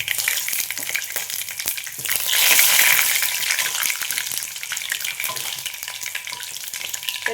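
Mustard seeds crackle in hot oil as whole cloves, cardamom pods and a piece of cinnamon go in for a vegetable stew, a steady close sizzle with popping that swells briefly louder midway; no one talks.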